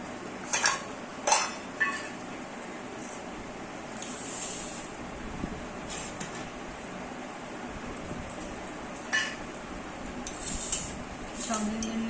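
Plates and steel cutlery clink and clatter while rice is served at a home lunch, with sharp intermittent taps and scrapes close by, some in quick bursts, over a quiet room and occasional low speech.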